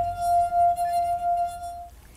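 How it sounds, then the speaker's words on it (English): A wine glass partly filled with water is played as a musical glass, ringing with one clear, sustained pure tone that holds steadily for about two seconds before stopping. "Played music on the wine glass. Now, if I put more water into it, that'll change the pitch."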